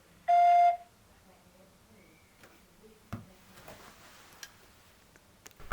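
A single loud, clear electronic tone from an automated phone message system marks the start of recording, followed by quiet background with faint clicks and rustles.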